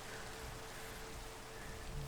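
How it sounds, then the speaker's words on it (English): Rain in a Minecraft-style video game world, a quiet steady hiss of falling drops pattering on surfaces without a break, no voices. "It's weird to be standing here in the rain,"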